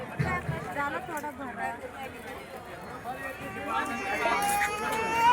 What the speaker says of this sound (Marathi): साडेआठ वाजल्या तरी ग्राहकांची गर्दी ही बाजारामध्ये आहे